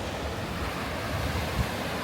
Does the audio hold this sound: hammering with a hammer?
no